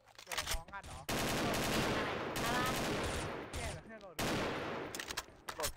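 Rapid bursts of AK rifle fire in a shooting video game, loud sustained automatic volleys broken by short pauses, with brief talk between bursts.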